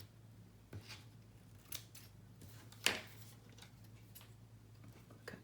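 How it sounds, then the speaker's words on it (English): Scissors cut ribbon tails at angles for a Christmas mini album, giving a few faint, scattered snips over a low steady hum, one crisper snip standing out midway. "These scissors don't cut well."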